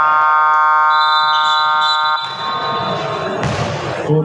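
A loud buzzer sounds at a basketball game, a 50-and-up division quarter-final, holding a steady electronic tone for about two seconds before crowd and court noise take over.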